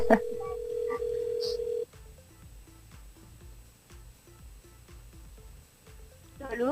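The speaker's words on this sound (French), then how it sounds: "c'est parti, on appelle Mélissa sur le standard de la radio." Telephone line sounds as a radio station's phone desk dials out to a listener, with a sustained tone giving way to a series of short regular beeps and pulses, then a brief warbling tone.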